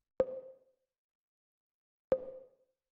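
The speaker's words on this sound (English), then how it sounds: "The next sound that we have here is this little pluck" Two short synth plucks, each a sharp attack with a quick decay, spaced about two seconds apart with silence between.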